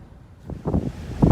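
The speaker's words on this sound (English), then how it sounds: "Sherry insists the wind is only blowing 32 miles an hour." Strong gusty wind at a beach, blowing around 32 miles an hour, buffets the microphone in low rumbling surges that build and strengthen toward the end.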